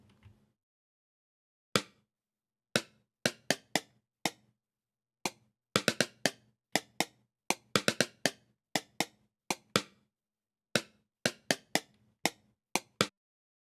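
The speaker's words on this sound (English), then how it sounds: "And now you should be able to hear some kind of scale." Synthesizer notes from SuperCollider code step through a musical scale as short, sharp plucked tones in an irregular rhythm with silence between them, heard alone and fairly quiet.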